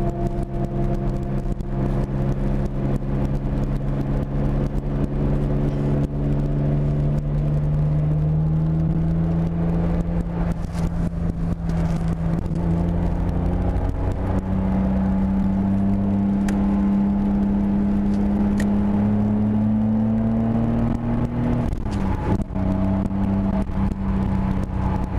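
Engine drone of an MK2 Toyota Supra cruising at 35 mph, a steady close whir with slowly rising and falling pitch as the car holds a moderate pace, continuous throughout with no talk.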